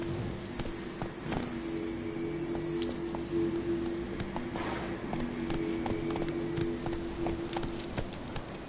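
Roach, a horse in a video game, gallops in a quick, continuous run of hoofbeats, moderately loud against a steady buzzing ambient hum.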